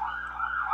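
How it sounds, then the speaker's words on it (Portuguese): An ambulance siren wails nearby, a loud sustained tone sliding slowly in pitch through the short moment, with no talk over it. "aqui não é avião, aqui é ambulância"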